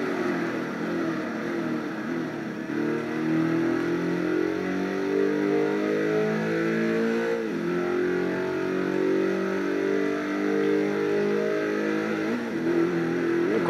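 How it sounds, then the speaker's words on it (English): An Alfa Romeo 8C Competizione engine in the racing game Test Drive Unlimited 2 revs and downshifts, its tone repeatedly dropping and climbing through the gears in a steady, loud, continuous drone with no talk. "Just listen to the downshift."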